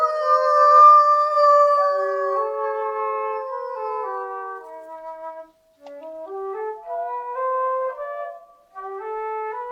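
Wolves howl at night in long, overlapping, gliding cries that rise and fall together, fairly loud and near, with a brief break midway and no talk.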